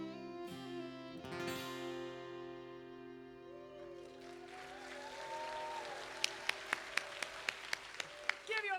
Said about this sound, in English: Give yourselves an extra big round of applause.